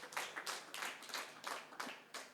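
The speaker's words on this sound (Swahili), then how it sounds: "Makofi." Church congregation at a widows' fellowship gathering clapping in a quick series of separate bursts, faint and somewhat distant.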